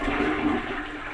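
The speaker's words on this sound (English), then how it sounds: "flush the toilet and drain as much water as we can out." A toilet flushes during a bidet installation, a loud rushing swirl of draining water close by for the whole moment, with no speech.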